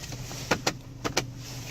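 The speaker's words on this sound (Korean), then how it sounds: "버튼 누르면 이렇게 접이식 전동 미러가 되고요" A soft electric motor whirs briefly inside a quiet Hyundai YF Sonata as a power side mirror folds, with a few faint clicks and thumps as it folds into place.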